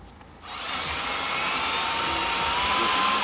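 A power drill bores into a rusty, stuck brake rotor screw, starting up abruptly and then whining steadily and loudly at close range for about three seconds.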